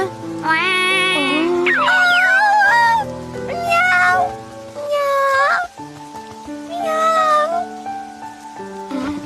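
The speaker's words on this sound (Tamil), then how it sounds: "ஏ குட்டி பூனை, எங்க இருந்து வந்த?" A cartoon kitten gives a series of high, wavering meows, some long and drawn out, with short pauses between them over soft sustained background music.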